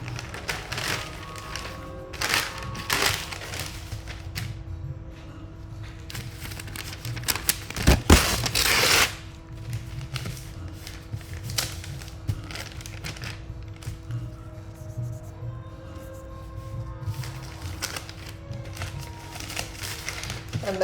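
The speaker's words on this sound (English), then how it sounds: "The next stage for me would be to use paper to take the excess off" Paper rubbed across an inked Toyobo solar photopolymer printing plate to lift off the excess ink gives a steady, close, scratchy rustle that rises into a louder crackling burst partway through.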